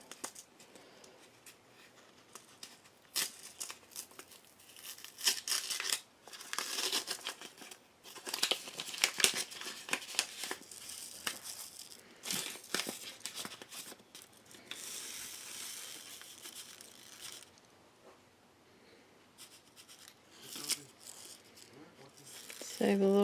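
A taped paper seed packet of Italian Genovese basil is pried open indoors, giving close, irregular crinkling, tearing and scratchy rustles in bursts, with a few quiet pauses.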